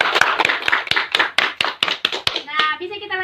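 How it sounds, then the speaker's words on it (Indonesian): Group clapping of children in a school group counseling session, uneven claps with a voice and talk mixed in, close and fairly loud, fading out at the end. "tepuk tangan semuanya"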